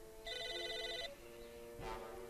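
Several telephones ring in the video game Psychonauts, a shrill electronic trill for about a second, then another ring rises briefly after a pause, moderately loud with no talking.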